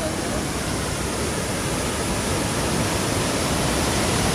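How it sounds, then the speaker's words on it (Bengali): A waterfall at a forested gorge near a river pours down in a dense, unbroken roar of rushing water, loud and constant throughout with no break or change. "জাস্ট ঝর্ণাটা দেখছো"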